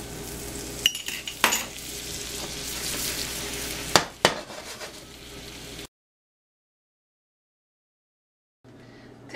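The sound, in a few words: stuffed French toast frying in butter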